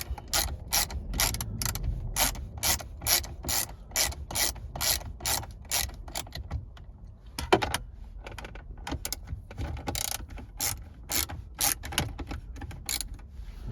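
A ratchet loosening screws on a Uconnect 8.4 car radio, bursts of quick clicking pawl ratcheting with short pauses and a single clunk midway, close and fairly faint, no talk.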